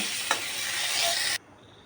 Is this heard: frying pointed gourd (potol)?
yes